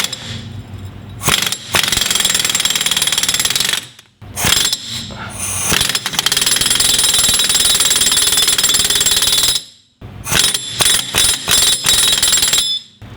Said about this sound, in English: But let's get our impact gun and give this a shot.